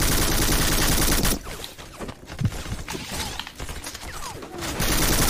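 Rapid bursts of automatic gunfire from a video game shooter, loud and dense at the start, then scattered shots and clatter, and a heavy volley returning at the end.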